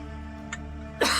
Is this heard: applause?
no